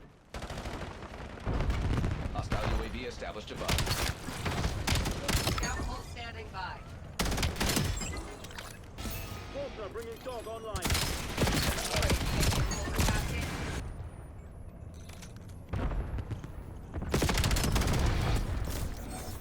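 Dense automatic gunfire bursts in the video game Black Ops 7, continuous rattling fire with scattered impacts and game effects throughout, and a voice talking underneath.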